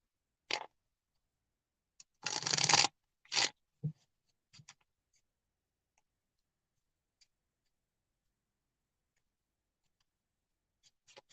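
A few short, dry papery bursts of cards being shuffled, close by, with one longer riffle followed by scattered faint clicks and silence.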